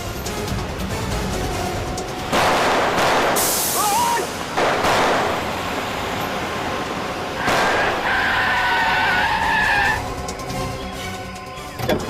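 A car is driven hard in a tense TV crime drama scene: loud engine roar broken by sharp bursts and wavering squeals of skidding tyres, over a busy background.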